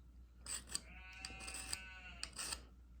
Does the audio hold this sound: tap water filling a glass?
no